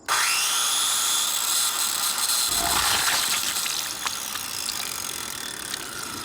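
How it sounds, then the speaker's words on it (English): A large electric saw whines loudly and steadily as it cuts into an egg, the high mechanical grinding holding throughout with a rougher rattling texture in the second half. "gently and delicately open this egg using a large electric saw"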